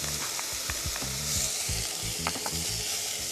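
Garlic, onion, carrot and coriander stems sizzle quietly in a pan while being stirred, a soft hiss carrying repeated low scraping and knocking strokes of the utensil at a brisk, uneven rhythm, with no voices.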